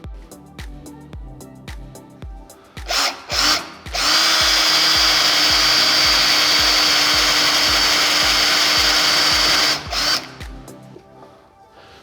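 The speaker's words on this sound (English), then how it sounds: "You'll notice with my spade bit, I've only drilled halfway through" Power drill with a spade bit boring a hole into a clamped piece of wood, a few short whirring bursts then a loud sustained grinding bore, all close, over repeated low thumping in the background.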